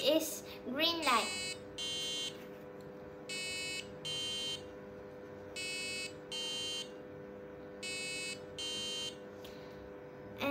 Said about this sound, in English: When it make a sound, the blind person can know the RGB beep is green light.